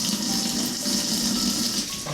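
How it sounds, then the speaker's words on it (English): Water is scooped by hand and poured over a baby's back in a bath tub to rinse off shampoo, a steady close splashing and trickling wash lasting a couple of seconds. "then what I do is scoop water with my hand just to make sure that I got all her back and all the shampoo is off"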